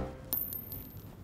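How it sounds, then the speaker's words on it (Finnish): Coins dropped during a casino session, a bright metallic clink landing near and sharp, followed by a few faint lighter jingles over a quiet background. "älä tiputtele kolikkoi tolle."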